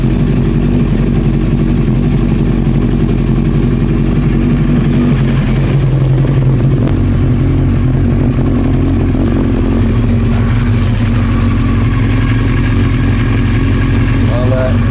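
An old Honda CBR900 Fireblade motorcycle with a running fault idles close by, a loud, steady mid-pitched engine drone that keeps going throughout without any revving.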